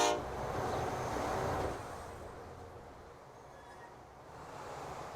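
ICE express trains run along a mainline in the Transport Fever 2 video game, a continuous rumbling rail roar with a faint horn tone, loudest at first and then easing to a steady background wash, with no talking.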